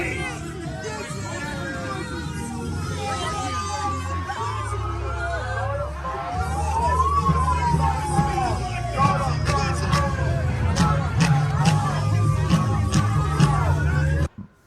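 Crowd hubbub at a street confrontation over religion, a steady mass of overlapping voices, chatter and occasional shouts that swells louder midway and holds close and dense until it cuts off abruptly at the end.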